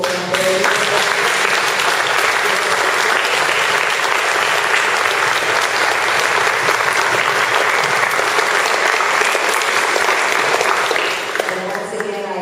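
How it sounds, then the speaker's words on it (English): An audience at a 2013 mayoral debate gives the candidates a sustained round of loud, dense applause, steady clapping filling the room for about eleven seconds before tapering off. "I think we should do a round of applause to all the candidates"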